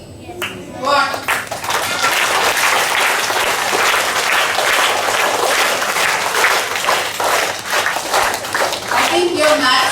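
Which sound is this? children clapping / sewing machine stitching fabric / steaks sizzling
children clapping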